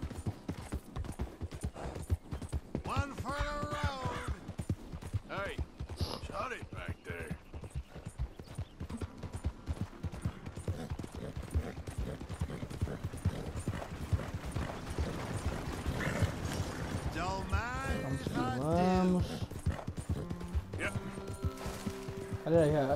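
Horse hooves clip-clopping in Red Dead Redemption 2, a steady rhythmic trot running throughout under someone talking in Portuguese, with occasional clanks mixed in.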